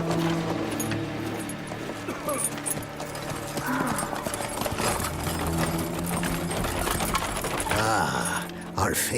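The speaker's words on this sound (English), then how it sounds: "Parang si Roach yung isang kabayo ah" Hooves clip-clop at a steady walking rhythm in The Witcher 3: Blood and Wine, layered with game ambience and mechanical clatter, while voices talk over it.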